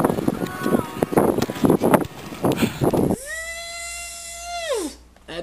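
Excited talking and bumping noises while fighting a tarpon near a bridge, then a loud, high-pitched whine of a Spiros 8000 fishing reel's drag screaming steadily for under two seconds before cutting off.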